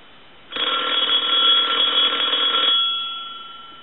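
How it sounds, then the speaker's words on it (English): A Western Electric 5302 rotary telephone's bell rings in one continuous burst of about two seconds, close and clear, then a faint metallic hum lingers as it fades. "I want to go ahead and ring the telephone"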